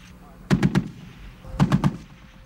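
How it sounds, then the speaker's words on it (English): Two short bursts of three rapid shots each from a .50 caliber heavy machine gun on a Stryker armored vehicle, loud and sharp with a brief gap between the bursts. "Its weapons system consists of either a 40mm automatic grenade launcher or a 50 caliber"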